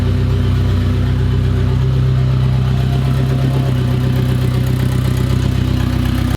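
Fiat 126 fitted with a 2.0 turbo engine of about 300 hp runs steadily, a loud, close, continuous engine drone at a constant pitch with no voices over it.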